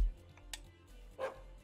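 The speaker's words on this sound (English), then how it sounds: "I like the little bark." A small monster in the video game Cassette Beasts gives a short, little bark, a couple of brief yips over quiet game background sound.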